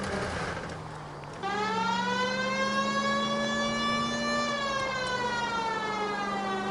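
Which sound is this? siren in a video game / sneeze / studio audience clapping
siren in a video game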